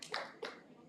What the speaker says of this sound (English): give a clap also, a big clap to yourself